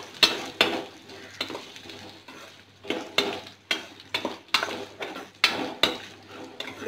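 A spoon stirs a mango pickle mixture with curry leaves in a pan, making rhythmic scraping strokes roughly twice a second, close and clear with no talking.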